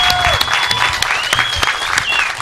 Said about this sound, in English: Please stand and join me in applauding our newest graduates